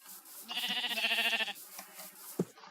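Sheep bleating in an adventure video game, a single wavering baa lasting about a second, followed by soft clicks and small in-game sounds.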